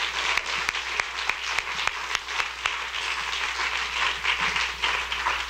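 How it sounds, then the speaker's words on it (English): An audience applauds a panel discussion, a steady roomful of clapping with a few sharp individual claps standing out at the start, moderately loud and continuous. "let's just give one more round of applause for these fabulous people"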